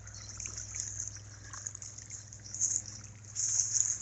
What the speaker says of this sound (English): That's just water coming from up above now.